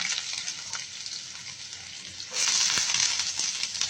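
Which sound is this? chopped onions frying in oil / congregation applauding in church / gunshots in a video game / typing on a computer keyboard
chopped onions frying in oil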